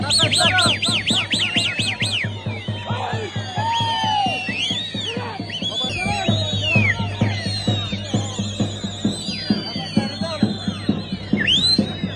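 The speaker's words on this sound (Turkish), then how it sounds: "Bugün Bilecik Nizip arasında 3 bin ile 5 bin arasında kuş bırakıldı" Thousands of pigeons being released at a festive event between Bilecik and Nizip fill the air with continuous dense chirping, cooing and fluttering, with steady rhythmic flapping and a busy crowd-like wash throughout.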